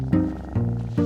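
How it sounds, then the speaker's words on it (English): Cats in a crowded cat house room holding at least a hundred cats, with three short close meow-like calls or purring bursts in quick succession. "There's at least 100 cats just in this one room."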